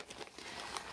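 Stacks of fabric squares pushed into a plastic bag, producing close, continuous crinkling and rustling of plastic with a few sharper crackles, fairly quiet and with no voices.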